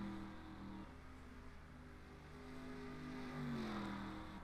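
Race cars in a NASCAR-style racing video game drone and rev steadily, engine pitch sliding as they run side by side locking bumpers on a North Carolina track.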